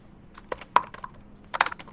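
Keys clack on a computer keyboard while an event is entered on a scheduling site, a few scattered taps followed by a quick burst of typing, close and fairly quiet with no talk.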